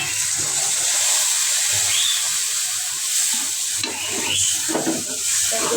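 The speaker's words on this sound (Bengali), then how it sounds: "এগুলো কষাই নিই।" Curry with green chilies, salt and chili powder being sautéed in a pan: a steady, loud sizzle with stirring scrapes running throughout, no talking.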